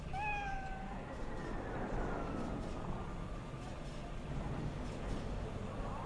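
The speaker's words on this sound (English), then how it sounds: "Let's pet the cat." A cat in the video game Cyberpunk 2077 gives a short meow when petted, a clear rising-then-falling cry lasting about a second over a steady low rumble of game ambience.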